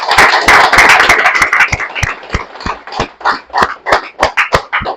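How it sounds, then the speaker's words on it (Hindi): Seated attendees at an FPRT seminar give a burst of loud clapping that starts packed and busy, then slows into sparser, spaced-out hand claps. "और जोरदार तालियां आप सब लोगों के लिए।"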